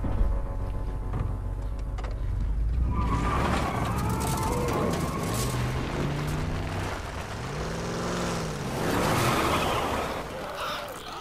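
A truck engine in the video game The Last of Us Remastered rumbles steadily throughout, with tonal whines and warbling sounds rising and falling over it, as people speak in the background.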